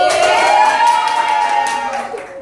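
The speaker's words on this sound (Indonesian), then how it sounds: "Oke, tepuk tangan kepada Sri." Classroom applause during a micro-teaching lesson, a short burst of clapping from students lasting a couple of seconds, fairly loud and close.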